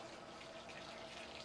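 Water pours steadily onto a banana plant in a garden, a continuous even splashing rush with no pauses.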